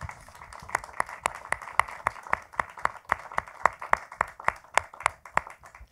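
Sparse rhythmic clapping from a small audience, individual claps distinct and fairly steady, moderately loud throughout.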